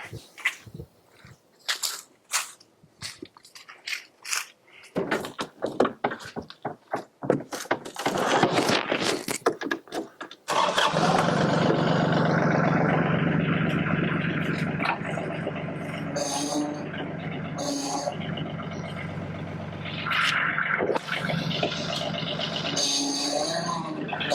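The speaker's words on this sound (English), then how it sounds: "There it goes." A Yanmar T235 tractor's diesel engine turns over and catches, then settles into a steady, loud idle that runs continuously close by after a few seconds of clattering and handling noises.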